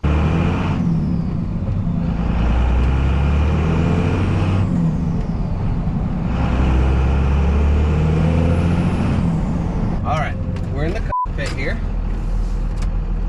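Dodge second-generation Cummins diesel truck driving, its engine a steady loud low rumble throughout, with a sharp hiss and a brief clunk near the end.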